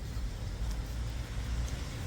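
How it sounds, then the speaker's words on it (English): City traffic noise beside a walking trail on day one of the Way of Saint James, a continuous low rumble of passing cars and heavier vehicles, fairly steady and moderately loud. "It's more like just city and noisy cars and stuff."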